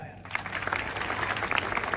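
A crowd breaks into applause at a Maharashtra wrestling match, scattered claps that build after a brief quiet start, with speech mixed in.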